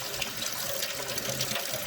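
Warm water runs steadily from a tap after an electric water heater install in a house on well water, a close, continuous splashing flow with no talk.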